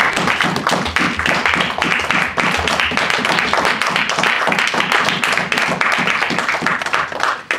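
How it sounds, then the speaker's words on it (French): A church congregation claps and cheers in acclamation, a close, steady stream of hand claps with crowd noise running throughout at full strength. "Une main d'acclamation à la parole."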